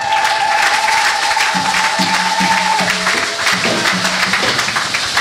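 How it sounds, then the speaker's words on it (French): A church congregation claps and cheers for the Lord in a loud, dense wash of applause, with a sustained tone and shifting notes underneath, continuing throughout. "Acclame pour le Seigneur"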